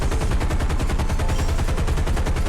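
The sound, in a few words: 50 cal machine gun burst from F4F, War Thunder video game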